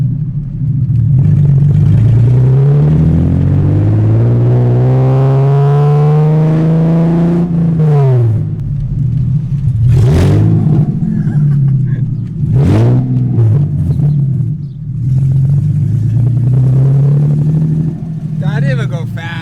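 A BMW E30 with an S52 engine and open headers revs hard and loud up close, the engine note climbing in long sweeps, dropping sharply between gear pulls, then building again in a raw, throaty roar.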